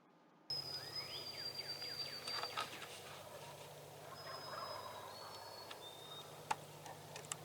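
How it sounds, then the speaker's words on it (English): Wild turkeys gobble in the distance during a Wisconsin spring turkey hunt, repeated rattling calls over a quiet outdoor background with scattered bird chirps and a few sharp ticks. "Unaware of what's heading in their direction, the turkeys continue to gobble."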